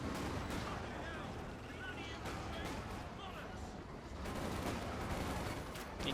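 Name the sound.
Land Mattress rocket barrage in video game Company of Heroes 2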